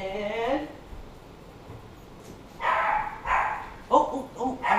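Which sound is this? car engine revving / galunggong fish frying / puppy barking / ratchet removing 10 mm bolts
puppy barking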